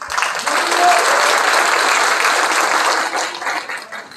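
Audience applause at a Korean labour committee launch ceremony held by a Democratic Party branch in Cheongju, a dense sustained burst of many hands clapping that tapers off toward the end.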